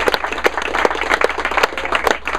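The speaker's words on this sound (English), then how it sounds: "one more round of applause for all our speakers" A small live audience applauds speakers at an event, individual claps audible in a lively, uneven patter for a couple of seconds, close and fairly loud with no speech over it.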